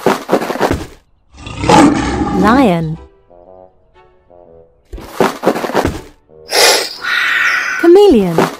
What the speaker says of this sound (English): Parrot. Lion.